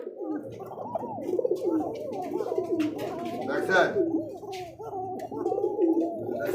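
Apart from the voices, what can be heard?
Kaka pigeons cooing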